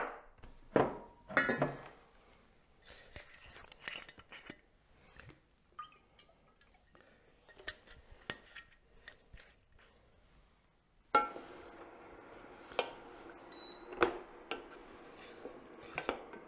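A knife cuts salmon into even pieces on a board, soft irregular chopping taps, close and fairly quiet, with busier kitchen clatter near the end.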